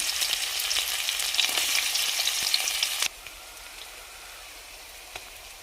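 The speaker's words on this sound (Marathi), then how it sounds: "कांदा घालूया।" Loud frying sizzle of onions in oil in a kadhai with scattered pops, dropping abruptly to a soft low hiss halfway through.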